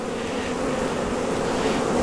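A dense, steady hum of honeybees swarms close by while hives are split in spring, an even buzzing wash with no voices.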